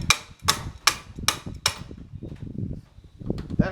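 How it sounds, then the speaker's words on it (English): Four sharp, evenly spaced metal hammer blows ring out on a Detroit 671 diesel engine part during rear main seal work, followed by quieter clanks and scraping, with a couple more knocks at the end. "I guess I should have brought a hammer over. Oh, here's a hammer."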